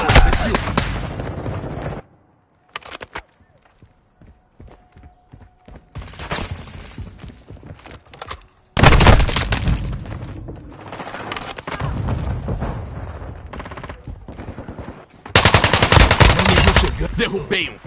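Rapid automatic gunfire in Call of Duty Modern Warfare 2 multiplayer, loud and close, comes in several dense bursts separated by quieter gaps with scattered single shots and distant pops.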